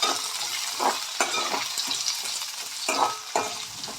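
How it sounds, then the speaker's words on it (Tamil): Chopped onion, green chilli and curry leaves sizzle in hot oil in a pan for a dried-fish thokku, with a steady frying hiss broken by repeated stirring scrapes, close and without speech. "வெங்காயம், பச்சை மிளகாய், கருவேப்பிலை, இது கொஞ்சம் ப்ரௌனிஷாக வர வரையும்"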